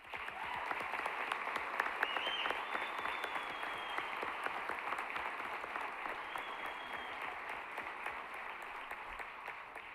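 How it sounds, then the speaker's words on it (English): Steady, moderately distant applause from a banquet audience at a university honors dinner, an even wash of clapping that holds for the whole span without a break. "let's give Jerry a round of applause"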